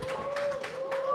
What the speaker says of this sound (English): Let's give Dylan a round of applause.